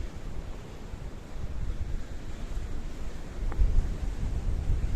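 Sea waves break against the rocks beside Paphos Castle in Kato Paphos Harbour, Cyprus, a continuous low wash and rumble mixed with strong wind buffeting the microphone.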